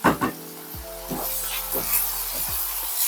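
Butter and fresh spinach hit a hot pan with thyme, giving a steady close sizzle after a couple of soft thumps as the ingredients drop in.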